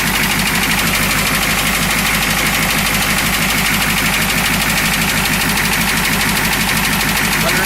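A 1969 Ford F-250 engine runs with a loud, continuous rhythmic knocking over its idle, close up and steady throughout, with no talking.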